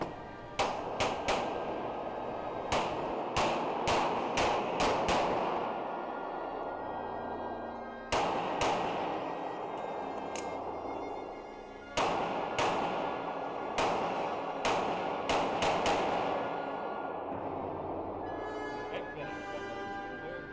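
Pistol shots fired at targets during an indoor IDPA championship stage, sharp reports in quick bursts of several shots separated by short pauses, loud and close with a reverberant tail.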